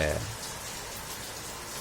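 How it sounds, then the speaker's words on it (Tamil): Steady rain falls in a continuous, even hiss of patter that stays close and fairly loud, with a brief low sound at the start. "தற்பொழுது மழை பொழிந்து கொண்டு இருக்கிறது."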